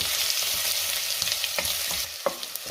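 Ginger garlic paste sautés in hot oil with a continuous loud sizzle, while a spoon stirs it and scrapes the pan now and then.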